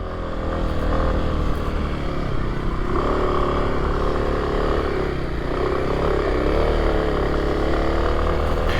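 A 2024 Kawasaki KLX300 dual-sport motorcycle rides off road, its single-cylinder engine droning steadily with gentle rises in pitch as the throttle opens. Constant wind rush sits close underneath throughout.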